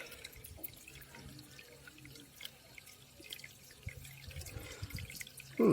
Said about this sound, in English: I've just simply got this pump recirculating the water around this bucket.